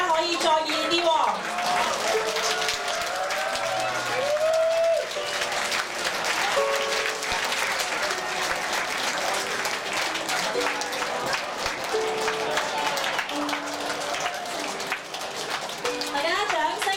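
An audience claps steadily for two harp performers, continuous applause filling the room while a voice talks over it throughout.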